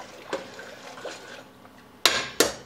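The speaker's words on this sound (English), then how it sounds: "Give that a stir." A spoon clatters against a pot as about two pounds of rinsed peas are stirred for pork hock and green pea soup, soft wet shuffling followed by two sharp close knocks, no talk.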